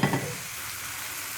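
An egg-dipped bread slice for French toast meets a hot frying pan, giving a brief initial hiss that settles into a steady, close, soft sizzle.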